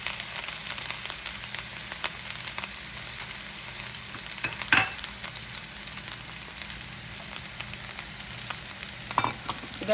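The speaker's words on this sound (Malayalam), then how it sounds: "ഒരു പാനിൽ കുറച്ച് എണ്ണ ഒഴിച്ച് ഉള്ളി ചെറുതായിട്ട് അരിഞ്ഞത്, ഇഞ്ചി, വെളുത്തുള്ളി," Onion, ginger and garlic fry in oil in a pan, giving a steady, quiet sizzle with occasional stirring scrapes, for chicken roast.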